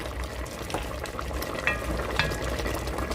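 Steady, close sizzling and crackling of chicken frying in a pot for stew, a continuous hiss with occasional small pops.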